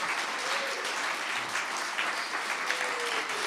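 Steady audience applause fills a live klezmer concert, a dense, even wash of clapping held at a moderate level from start to finish with no voices rising above it.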